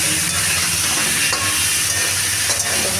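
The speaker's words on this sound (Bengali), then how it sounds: "হলুদ দেওয়া হয়ে গেছে। এবার নেড়ে দেবো।" Turmeric-spiced potatoes fry in a pan and are stirred, giving a steady, close sizzle with faint scraping movements throughout and no voices.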